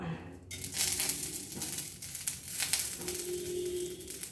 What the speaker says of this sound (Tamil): அடுத்ததாக கருவேப்பிள்ளையை போட்டுக்கிறோம்